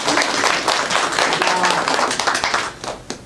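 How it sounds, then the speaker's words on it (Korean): An audience at a lecture on immigrant life claps to welcome the speaker, with brisk, close applause that thins out near the end. "박수로 환영해 주십시오."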